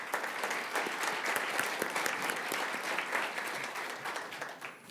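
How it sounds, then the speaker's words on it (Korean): An audience at a law school moot court competition closing ceremony applauds to welcome a speaker, dense steady clapping from a full room that holds throughout and fades slightly at the end. "큰 박수로 환영해 주시기 바랍니다."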